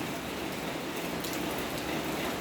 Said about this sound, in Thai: ฝนตกตอนนี้ไปไม่ได้